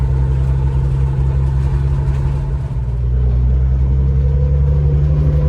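A 1966 Ford Falcon Turtle Top van's engine runs steadily with a loud, low, even drone from inside the vehicle, heard alone throughout.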